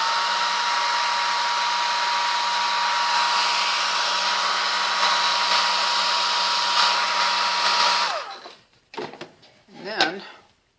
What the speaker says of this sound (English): Hit it with the dryer again.